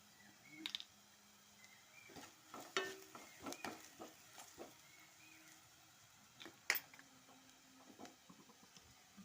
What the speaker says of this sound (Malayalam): ഈ കുരുമുളക് പൊടി ഈ എണ്ണയിലിട്ട് വഴറ്റിയിടുന്നത് ഒരു പ്രത്യേക ടേസ്റ്റാണ്.